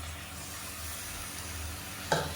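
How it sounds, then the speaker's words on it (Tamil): Oil sizzles steadily in a pan, then a brief louder splash and hiss near the end as blended tomato puree goes in for a kuzhambu curry. "ஒரு மூணு தக்காளி மிக்சியில் அடித்து வச்சுருக்கேன் இதை சேர்த்துக்கலாம்"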